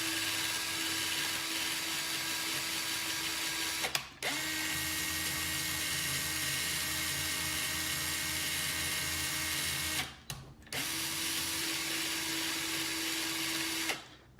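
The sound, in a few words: drill spinning to stretch wire for coils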